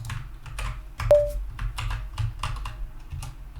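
Keys clack on a computer keyboard as a command is typed, a quick irregular run of crisp taps with one sharper click, close and clear over a low background hum.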